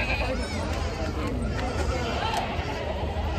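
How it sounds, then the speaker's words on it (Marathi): Goats bleat repeatedly amid the steady hubbub of a large goat and sheep market in Chakan, Maharashtra, with crowd chatter throughout. "इकडं पण शेळ्या आहेत बघा."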